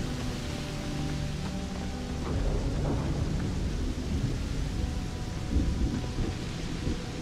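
A thunderstorm with lightning and steady rain in the Starfield video game, rumbling thunder rolling beneath a constant dense hiss of rainfall, with no voices.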